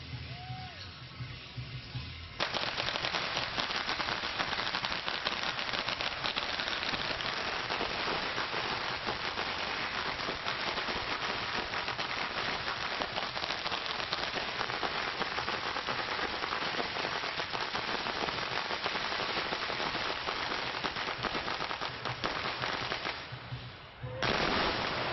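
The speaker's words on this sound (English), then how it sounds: "Reverend Norman Fong lighting the firecrackers" A long string of firecrackers lit at a Chinese New Year parade crackles in a dense, continuous rattle of rapid pops for over twenty seconds, loud and close, with crowd noise before and after.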